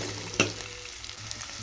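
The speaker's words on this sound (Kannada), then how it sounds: "ಒಂದು ಸ್ವಲ್ಪ ಕೈ ಆಡ್ಕೊಂಡು ಇದ್ರೊಳಗೆ ಚಿಕನ್ ಹಾಕ್ಕೊಂಡ್ರಿ." Chicken pieces go into a pan of onions already frying in oil, a brief clatter followed by a soft, steady sizzle and light stirring close by.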